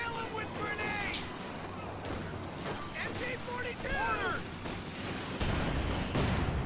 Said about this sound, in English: Vicker's being heavily mortared.